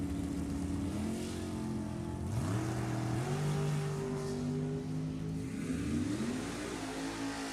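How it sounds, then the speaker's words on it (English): Drag race launch at the strip pitting a 1965 El Camino against a 2010 Sarmento chassis dragster, engines revving hard in rising, sweeping pitches as the cars accelerate away, loud and sustained with shifting tones. "Right side, John Prop. 477 out of Auburn in the 2010 Sarmento chassis dragster"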